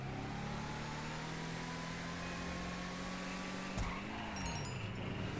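A car in a video game accelerates, its engine tone rising steadily before a quick gear change near the end, faint and thin, with no talk.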